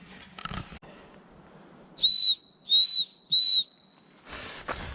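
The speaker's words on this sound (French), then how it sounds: "le sifflet est top quoi" Three loud, close, shrill blasts from the safety whistle built into an Oxsitis Pulse 12X backpack, evenly spaced with short gaps, between handling rustle before and after.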